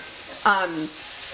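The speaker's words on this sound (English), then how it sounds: "You can hear it sizzling, and it smells just like a barbecue house." Soft, steady sizzling of vegan jackfruit barbecue filling frying in a pan, with a brief squeaky scrape partway through.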